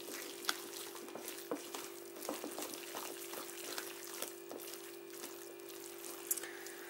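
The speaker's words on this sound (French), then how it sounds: "Maintenant, on remélange." Carrot cake batter is stirred in a bowl, giving faint, soft scraping and wet mixing sounds with occasional light taps over a steady low background hum.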